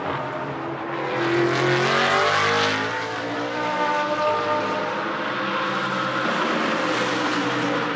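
GT race cars in a Blancpain Sprint Series practice session at Moscow roll back toward the pit lane, several engines droning and shifting in pitch at a moderate distance, overlapping into a sustained rumble with no voices.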